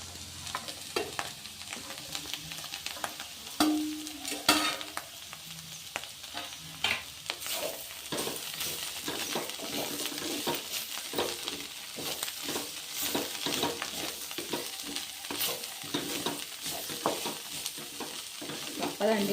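Bitter gourd and thinly sliced onion fry in a pan under a steady, close sizzle, while a spoon stirs them through with repeated scraping strokes for about twenty seconds and no one talks.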